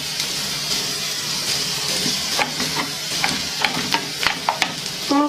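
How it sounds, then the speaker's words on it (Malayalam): Sliced onions frying in a pan for chilli prawns, a steady close sizzle with clinking stirs that grow more frequent toward the end, no talking. "നമുക്ക് ഈ കട്ട് ചെയ്ത് വെച്ചിരിക്കുന്ന സവാള ഇട്ട് കൊടുക്കാം"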